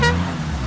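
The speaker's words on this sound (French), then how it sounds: "Pour prévenir les autres que tu arrives, le klaxon." A car horn gives a single short toot, loud and close, tailing off into low vehicle rumble with no talk.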